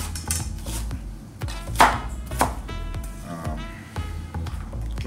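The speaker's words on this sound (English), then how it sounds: "I'm gonna just chop it real small here real quick" A kitchen knife chops onion and garlic into small pieces with quick, uneven taps close by, a few sharper knocks, and a faint clatter of kitchenware.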